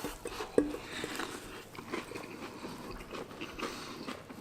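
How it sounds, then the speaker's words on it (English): People race each other eating a giant bowl of cereal, mixing Fruit Loops, Rice Krispies, Corn Pops and cinnamon cereal. Soft, close crunching and chewing continues, faint and steady, with one sharper bite early on. "Because we're both chewing the same amount."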